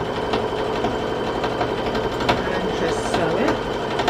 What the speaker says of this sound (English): Sew it.